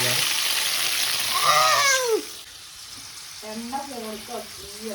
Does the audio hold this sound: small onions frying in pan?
yes